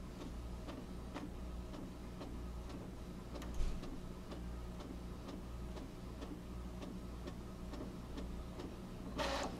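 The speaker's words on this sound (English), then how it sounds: "The sample page is coming out." A wireless printer runs a sample page, a faint, regular ticking mechanism with a steady low whir and one louder clunk partway through, no talking.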